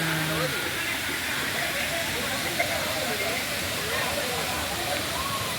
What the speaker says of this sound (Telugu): ఎన్ఆర్పురం వాటర్ ఫాల్స్ ఎలా ఉందండి?